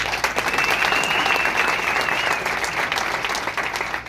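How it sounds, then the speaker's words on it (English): Loud, dense applause from an audience, a sustained wash of many hands clapping at once, steady throughout with no talking. "How about a round of applause?"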